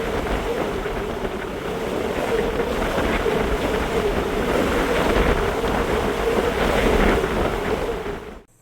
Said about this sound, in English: a brief video so you can hear how loud the wind rips through